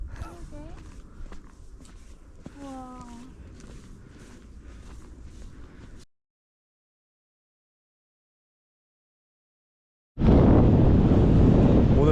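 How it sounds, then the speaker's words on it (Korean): Gusting wind buffets the microphone alongside a broad roar of heavy surf on a Jeju beach at Geumneung; talk runs over the first half, followed by a silent gap, then the loud continuous wind and wave roar. "지금 이렇게 바람 바람이 와, 아, 파도도 엄청 세고"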